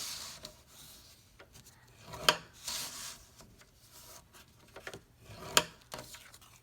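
A stylus scores cardstock at one inch all the way around, making faint scratchy rubbing strokes with a few sharper scrapes, quiet and close with no talk.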